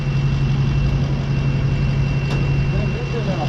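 Honda engine on a Mayco C-30HD concrete pump idling at a steady, loud drone with a constant low hum, close by, with no talk in this stretch.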